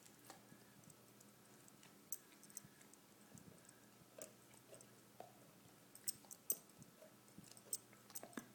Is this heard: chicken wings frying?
no